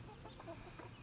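A hen clucks softly in short, scattered calls near the chicken run outdoors on a hot day, set against a steady high-pitched hum of ambient noise.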